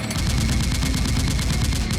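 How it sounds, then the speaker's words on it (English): Rapid gunfire from a SWAT team shooting in a film scene, a dense, loud, continuous burst of automatic shots with steady rhythm and no talking. "upon seeing SWAT starts shooting"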